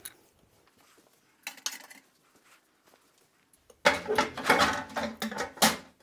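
A second layer of glass canning jars of chickpeas set onto a second metal rack stacked inside a pot, a few sharp close clinks and rattles, then a louder burst of clattering glass and metal.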